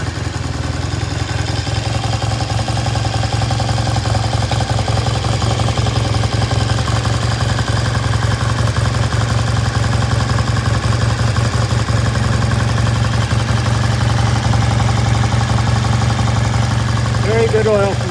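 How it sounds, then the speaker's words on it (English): A vintage British motorcycle engine idles slightly high on a repair stand, a steady continuous throb with mechanical clatter holding evenly throughout, close and fairly loud with no pauses. "We're going to leave the idle just a little bit high."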